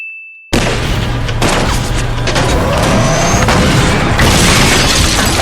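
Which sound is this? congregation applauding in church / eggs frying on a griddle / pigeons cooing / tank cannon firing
tank cannon firing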